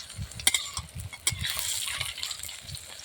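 Small shrimp fritters fry in oil over a wood-fired clay stove, a soft steady sizzle with light crackles and occasional sharp pops, fairly quiet and close.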